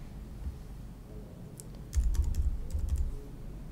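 Someone types a short word on a computer keyboard, a quick burst of light key clicks in two small clusters, close and alone without talk.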